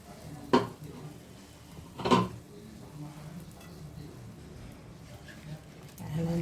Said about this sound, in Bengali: তুলে দিয়ে দিলাম, মানে বাগার দিয়ে দিলাম।